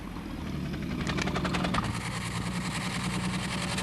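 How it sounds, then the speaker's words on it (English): A car engine idles steadily during an exhaust emissions test, with a low, continuous rumble and a faint rhythmic chug, close by and constant throughout, with no talking. "You can stop the car now, Parker."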